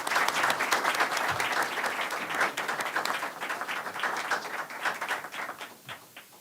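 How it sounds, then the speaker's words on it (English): An audience at a health policy event claps steadily in a full round of applause, dense and sustained before gradually thinning toward the end. "Big round of applause for Dari, please"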